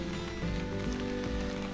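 Steady rain patters through a forest along a forest-therapy trail at Tokyo's Citizens' Forest in the rainy season, a dense, continuous hiss of drops with a low, even background and no voices.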